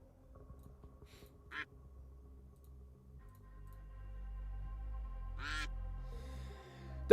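Cartoonish duck quacks sound during an online duck race, one short quack early on and another a few seconds later, both set over a steady low hum.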